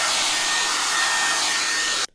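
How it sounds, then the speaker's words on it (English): A handheld hairdryer blows a steady, loud rushing stream of air to dry makeup setting spray on a face, running alone for about two seconds before cutting off abruptly. "I'm gonna use my hairdryer."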